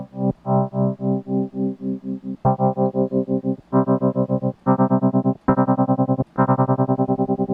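Rhodes-style electric piano chords pulsing with a fast, deep tremolo at full rate and depth, each held chord throbbing rhythmically in volume, with a few chord changes across the passage.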